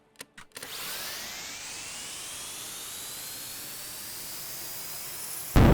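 An engine in the vehicle-building game Stormworks throttles up, its whining tone rising smoothly and steadily in pitch for several seconds before a sudden loud burst at the very end.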